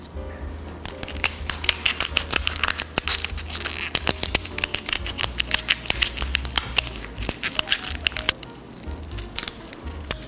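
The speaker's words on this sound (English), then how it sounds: "grab some kitchen shears, and you want to cut right along the edge here to free this top" Kitchen shears snip along the edge of a lobster tail shell in a dense run of close, crisp clicks and crunchy cracks with small rustling in between.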